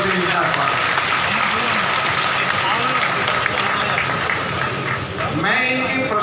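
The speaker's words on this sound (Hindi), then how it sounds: "जोरदार तालियों से इनका स्वागत।" Crowd applause at a public event in Barmer where a Union minister addresses farmers, welcoming a local MP; dense, sustained clapping throughout with voices and crowd noise mixed in.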